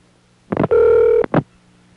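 Telephone dialing tones on a 1A ESS Centrex line from the early 1980s: a short touch-tone burst, a longer steady dual tone, then another brief tone, loud and close on a quiet line.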